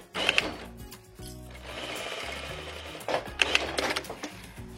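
A sewing machine stitches along the side of a fabric gift bag, running in steady buzzing bursts with brief pauses and clicks between runs, close and fairly quiet.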